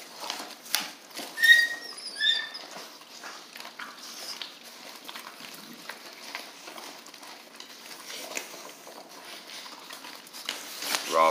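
American Bandog pups tearing at and shaking raw duck, with close, scattered wet chewing, tugging and scuffling sounds in irregular bursts, a few sharp squeaky whines, and a voice talking briefly.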